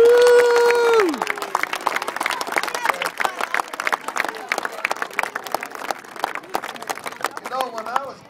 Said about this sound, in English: everybody in this place should give the mothers a nice round of applause